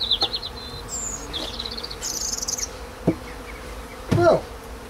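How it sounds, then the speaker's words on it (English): Honey bees buzzing around an opened beehive during a spring inspection, close individual insects droning steadily with a few louder passes near the microphone. "There's even bees up inside there."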